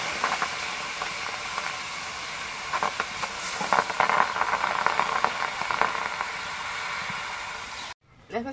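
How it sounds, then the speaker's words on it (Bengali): Radish greens fry in a hot wok, giving a continuous sizzling hiss with bursts of crackling spatter that swell midway, then cut off abruptly near the end. "এখন শাকগুলো দিয়ে কড়াই দিয়ে দিই।"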